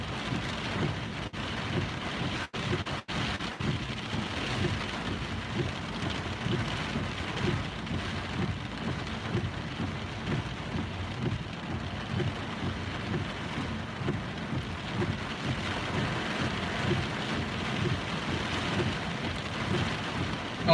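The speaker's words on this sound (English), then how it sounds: "Pretty heavy rain showers moving through." Heavy rain showers pour steadily during a storm, a dense, continuous wash of close rainfall with no talk over it.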